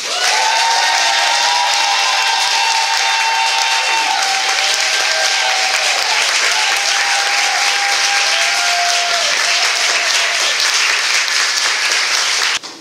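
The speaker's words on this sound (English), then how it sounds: "give another thunderous round of applause to the one and only Dr. Joanne Martin" Thunderous applause from a large audience at a gathering honouring Black wax museum history, loud dense clapping sustained throughout with crowd noise and a few tonal whistles or cheers above it.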